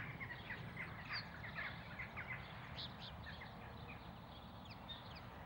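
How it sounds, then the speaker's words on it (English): Jackdaws call on the outskirts of London, a string of short, sharp chattering notes repeating irregularly over steady background rumble, fairly faint and distant. "so too, it seems, is this really quite comical bird, the jackdaw"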